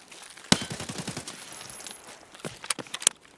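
An AK-105 rifle fires in the game Escape From Tarkov, a sharp close shot followed by a rapid burst of rounds, then a few scattered clicks and shots near the end.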